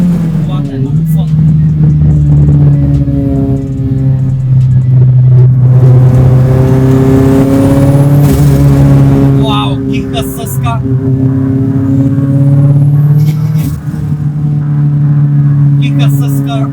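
A 40-plus-year-old BMW E30 Turbo on stock suspension is driven hard. Its loud engine drones and revs steadily, with pitch rising and falling through the gears, and voices talk over it throughout.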